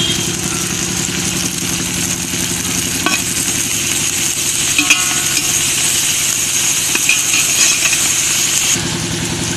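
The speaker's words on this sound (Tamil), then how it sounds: "இது கூட வந்து ஒரு கைப்பிடி மல்லித்தழை, ஒரு கைப்பிடி புதினா இது கூடவே சேர்த்து நல்லா வதக்கிக்கலாம்" Onions sautéing in a pan with a handful each of coriander and mint leaves, cooked for a seeraga samba chicken dum biryani: a steady, close, loud sizzle and frying hiss with light stirring scrapes throughout, no talk.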